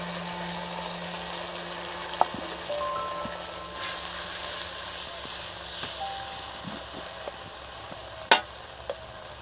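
Tomato paste sizzles and crackles in a frying pan while Dhokar Dalna is cooked, a steady quiet fry with occasional spoon taps and stirring clinks.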